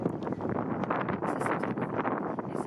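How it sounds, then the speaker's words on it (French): Strong wind buffeting the microphone outdoors in Prague, a loud continuous rumbling roar with gusty fluctuations throughout. "Le vent qui nous décoiffait, voilà, et qui couvrait tout ce qu'on disait."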